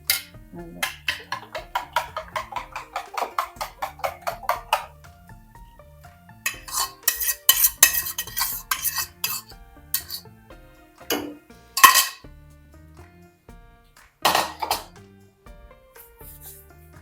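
Utensil scraping and clinking in a pan while an egg dish is stirred, with rhythmic rapid taps early, then bursts of clattering metal, and no talk.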